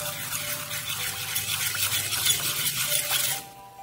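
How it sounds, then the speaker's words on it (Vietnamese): Agar and sugar stirred into water in a cooking pot: a steady, close scraping and swishing of the utensil against the pot for a few seconds, then it stops abruptly. "Rau câu và đường mình đã trộn đều mình sẽ đổ vào nước luôn. Và mình sẽ quậy đều nha."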